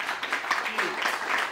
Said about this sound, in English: Give him a round of applause, Mr. Bill